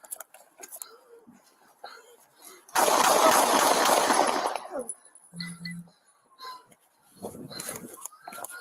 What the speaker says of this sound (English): That last volley